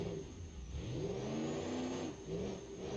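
Stock V8 diesel engine in BeamNG.Drive revving up and down in rising and falling sweeps, a steady mid-pitched growl heard up close with no talk.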